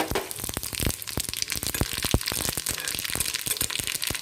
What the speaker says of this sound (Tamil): இப்போது எண்ணெய் காஞ்சிச்சு. எண்ணெயில் கடுகு, உளுத்தம் பருப்பு சேர்த்துடலாம்.